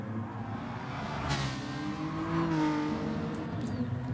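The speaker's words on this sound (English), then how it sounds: "see if the fast GTR can overtake the fast Ferrari here on the straight" A GTR and a Ferrari race along the straight at Interlagos in a racing video game, engines whining steadily with rising pitch as one car pushes to overtake, no voices over the motor noise.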